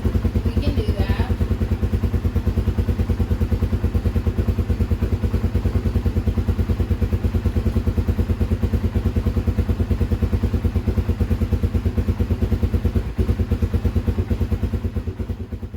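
A Honda ATV engine idles nearby with a fast, even, loud thumping putter that holds steady throughout with only slight dips, and no talk over it.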